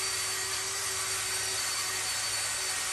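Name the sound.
wire brush cup on cordless drill cleaning Mopar 440 block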